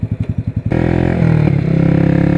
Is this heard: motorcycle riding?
yes